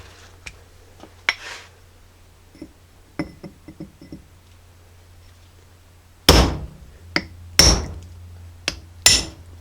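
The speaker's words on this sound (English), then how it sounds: "we're going to make just little marks with the chisel" A hammer taps a chisel to mark a Jeep Saginaw steering gear box case and its collars: scattered light ticks and clicks at first, then four sharp, loud metallic strikes close up, with no speech.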